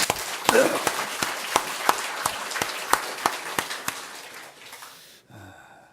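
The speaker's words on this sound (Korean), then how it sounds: "박수 한번 해줍시다." A church congregation applauds its choir after a hymn, with loud, evenly paced claps in near unison that gradually thin out and fade near the end.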